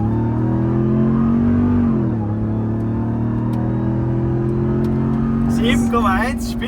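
A 707 hp Dodge Ram TRX pickup holds a loud, steady engine drone at launch, with a brief dip and recovery in pitch as its wheels spin, while voices talk over it.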